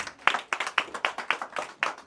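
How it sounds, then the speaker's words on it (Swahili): Slow, rhythmic clapping at a memorial service, about nine even claps spaced roughly a quarter second apart, fairly close and moderately quiet with no talk. "makofi mazuri"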